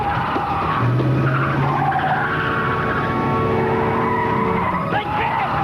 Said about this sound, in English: The car was going back and forth